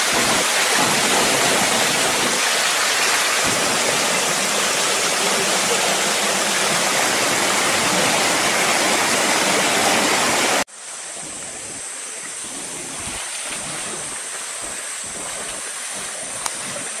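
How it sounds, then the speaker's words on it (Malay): A small waterfall on a river, the Sungai Ong, roars as a loud, continuous rush of falling water, then drops suddenly to a softer, more distant flowing wash. "Mini waterfall. Waterfall."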